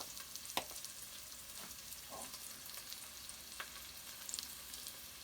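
Hot smoked paprika sizzling in a pan while a chorizo and potato stew is being cooked, a quiet, continuous crackle with a few soft clinks and stirring scrapes, no talking.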